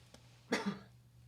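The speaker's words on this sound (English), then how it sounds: "You cough off mic like that." One soft cough heard at a distance, made away from the microphone, muffled and quiet, with a faint catch just before it over a low steady hum.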